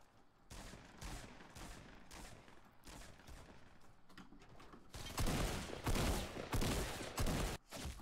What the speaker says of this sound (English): I was getting shot by two different people